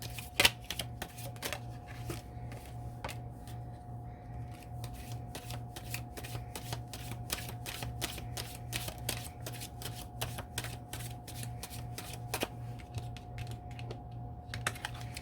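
Tea leaf oracle cards are shuffled by hand in a steady stream of quick, crisp riffling clicks that run continuously at close range, without any talking.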